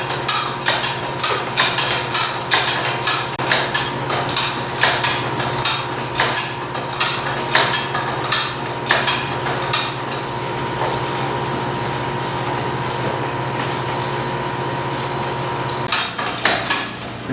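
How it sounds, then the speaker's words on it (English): Grape press being slowly ratcheted down, loud metallic clanks repeating about once a second for roughly ten seconds over a steady low hum, then a pause and a few final knocks, nearby and without talking. "Just continue to ratchet slowly."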